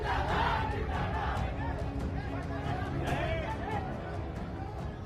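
A crowd gathered outside Mukhtar Ansari's house makes a loud, continuous murmur with scattered shouts and raised voices, steady throughout.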